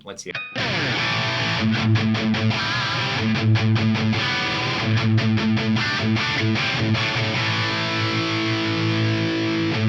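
Electric guitar played through a USA lead amp on mid gain, with a stereo tri-chorus effect kicked on, giving loud distorted strummed chords and riffs with rhythmic stops; a brief voice is heard at the start.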